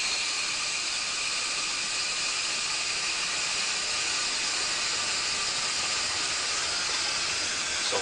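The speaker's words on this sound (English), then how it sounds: "It's going to take a second for the sumps to fill with water." Whole house water filter sumps filling under pressure, a steady, loud, broadband hiss of rushing water that stays constant throughout.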